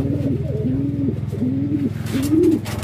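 A checkered pigeon coos close by in repeated soft, throaty rolling calls, one after another, with a low steady hum underneath.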